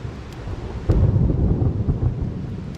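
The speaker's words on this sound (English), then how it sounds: "There's some pretty serious thunder going on." Thunder during a backcountry camp at Gregory Bald: a deep, loud rumble swells in and rolls on over a steady wash of rain and wind, with no voices.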